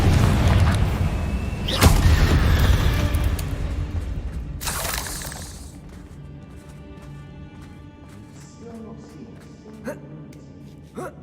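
A Confringo fire spell bursts in the Hogwarts Legacy video game with two loud, booming blasts a few seconds apart, then fades into quieter rumbling ambience dotted with small impacts.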